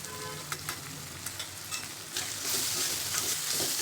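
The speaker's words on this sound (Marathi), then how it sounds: "आलं लसूण पेस्ट पण छान परतलेली." Ginger garlic paste sautéing in butter for pav bhaji, a continuous close sizzle and frying hiss with a few scraping stirs of a spoon in the pan, growing slightly louder toward the end.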